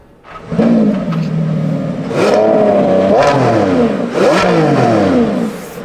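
A Lamborghini Revuelto's 1015 hp V12 is revved in three rising, snarling bursts, each one climbing in pitch and then falling back, loud and close, with no talking.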